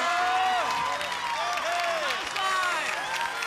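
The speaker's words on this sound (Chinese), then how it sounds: "掌声欢迎发明王" A studio audience claps and cheers to welcome a guest called the Invention King on a Taiwanese campus variety show, lively clapping with bright musical stings over it.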